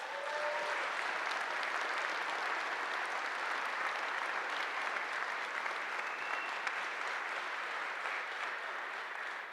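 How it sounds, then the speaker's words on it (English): A tech conference crowd at SCaLE gives the speakers a long, even round of applause, dense and steady throughout, heard somewhat distant and unbroken by talk. "I hope you guys will join me in giving all of our speakers a huge round of applause."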